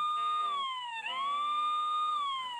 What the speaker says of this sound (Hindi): ये पुलिस की कार विथ साइरन चल रहा है